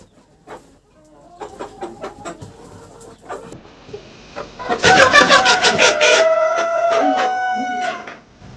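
A bearded, crested rooster clucks in a series of short calls close by, which grow louder and denser halfway through into a sustained run of agitated clucking.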